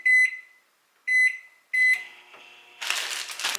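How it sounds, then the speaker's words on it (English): A home kitchen microwave oven sounds three sharp electronic beeps in quick succession, then a door clunk and rustling handling noise follow, close by and fairly loud. "1 minute in the microwave."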